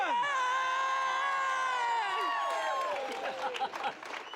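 A huge crowd of about 25,000 people at an evening outdoor event cheering and whooping with sustained high shouts, then breaking into scattered clapping as the cheers fade, loud and enveloping.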